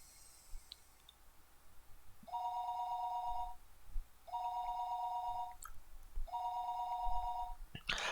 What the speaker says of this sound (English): The phone rang for a third time.